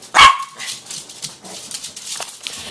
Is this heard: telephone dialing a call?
no